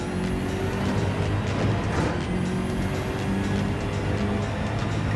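GR3 race car lapping the St Croix A circuit in a racing video game, a steady high engine whine with rising and falling gear pitches and shifts, no talking.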